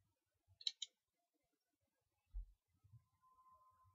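A computer mouse clicking twice in quick succession while someone enters pay details on a website, crisp and close, followed by quiet stretches with a few soft low thumps.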